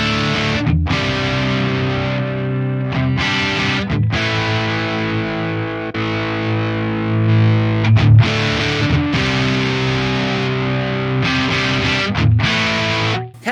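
Distorted electric guitar through a Bogner Ecstasy amp model on an Axe Fx III, played without a drive pedal, loud, thick chugging chords with brief pauses between phrases.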